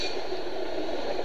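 A train passes in Seymour, Indiana, giving a steady loud rumble and hiss that fills the whole moment without pause.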